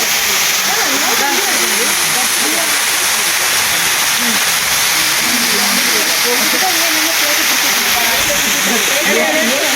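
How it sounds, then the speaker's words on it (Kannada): Manikya Dhara waterfall on Baba Budangiri hills near Chikkamagaluru, water plunging from above, gives a loud, steady broadband rush that fills the whole stretch without pause, with faint voices partly buried beneath it. "ಈ ರೀತಿ ನೋಡಿ ಎಷ್ಟು ಸುಂದರವಾಗಿ ಧುಮಿಸ್ತಾ ಇದೆ"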